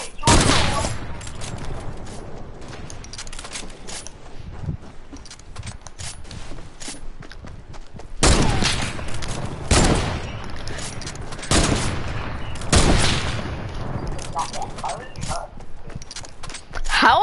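Rapid bursts of gunfire from a Fortnite match crackle in loud, repeated volleys, with a voice talking over the shooting.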